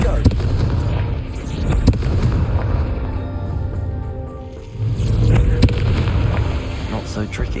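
A Confringo fire spell blasts in Hogwarts Legacy amid a goblin camp fight, with repeated deep booming explosions and crackling impacts rolling loudly across several seconds, briefly dipping before another burst.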